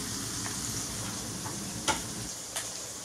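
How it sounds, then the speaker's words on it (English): Shrimp fry in a hot pan with a steady, soft sizzle, punctuated by a couple of brief utensil clicks, close up and moderately quiet. "We're going to get these shrimp nice and golden."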